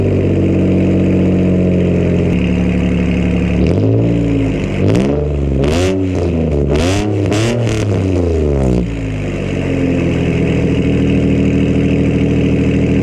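A sports car engine with catless downpipes idles with a deep exhaust burble, then revs sharply several times in quick bursts before settling back to a steady rumble.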